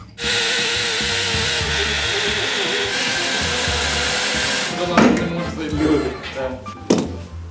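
A power drill runs steadily for about five seconds, drilling out a bolt seized in the block of a Jeep Patriot. It then stops, leaving a few clanks and a voice close by.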